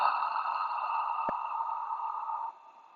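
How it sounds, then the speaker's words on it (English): A long, steady breath out through the mouth in a soft hissing fog sound during a relaxation yoga practice, faint and close, trailing off near the end with one small click partway through. "And exhale the foggy sound."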